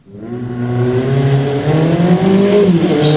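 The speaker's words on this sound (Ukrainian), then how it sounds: "Вірно, це так звучить мотоцикл." A motorcycle engine revving up and holding a rising, buzzing drone, close and loud, with a slight pitch dip near the end.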